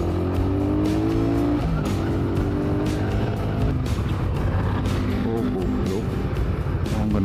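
Suzuki Satria FU motorcycle engine while riding after an oil change, with continuous revving that rises and falls through gear changes, loud and close, mixed with wind and road rumble.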